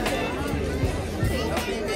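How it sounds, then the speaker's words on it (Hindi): A crowded night market in Manali, with a dense murmur of many voices and footsteps all around, close and continuous, while someone nearby talks. "देखो कितनी भीड़ है अभी यहाँ पर मनाली में"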